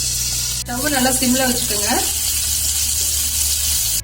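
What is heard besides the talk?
water added to hot oil with chili powder, sizzling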